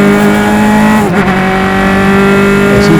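A Formula Atlantic single-seater race car rolls down the pit lane at a club race, its engine a steady, loud drone throughout with a brief dip and wobble partway through.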